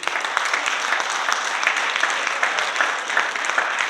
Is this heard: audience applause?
yes